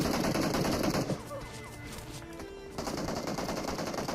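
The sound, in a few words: gunfire in video game PUBG Mobile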